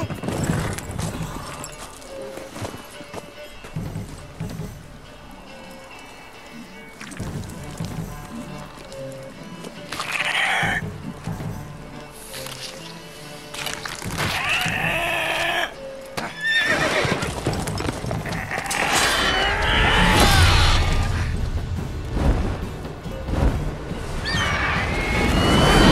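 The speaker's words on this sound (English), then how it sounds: "I think I pick up a horse." A horse in the video game The Witcher 3 neighs and whinnies over steady galloping hoofbeats, with clattering game effects building in loudness toward the end.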